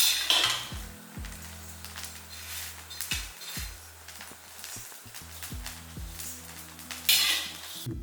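Roasted black kavuni rice and black urad dal being scraped and tipped from a pan into a vessel, with clattering utensil knocks and scraping strokes, close and moderately loud, no talking.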